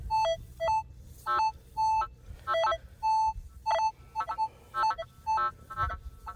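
A metal detector chirps out repeated high-pitched target tones in short bursts, some steady and some warbling, over faint background rumble while sweeping ground with a Minelab Manticore or CTX 3030 over a target among iron.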